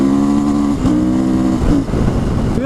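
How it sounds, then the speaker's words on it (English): A Husqvarna FE 350 four-stroke dirt bike engine holds a steady high rev, then dips and rises through quick throttle changes, loud and close, with no voices over it. "It revs like crazy, you know,"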